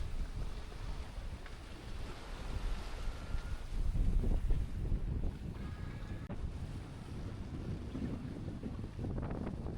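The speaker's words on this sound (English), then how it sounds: "A bit of breeze here right at the end." Steady breeze rushing over the microphone aboard a sailboat running on the mainsail near Shaw Island, with broadband wind roar, faint water wash and brief gusty swells throughout, no talking.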